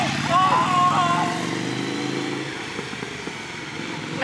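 A motorcycle engine revs loudly close by and then rides off, the roar dropping to a fading drone as it pulls away, with voices heard over it.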